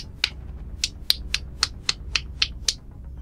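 Nine or so sharp, bright claps ring out at an uneven, quickening pace, fairly close, with no voices in between.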